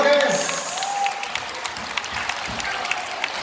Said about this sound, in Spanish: Esos fuertes aplausos,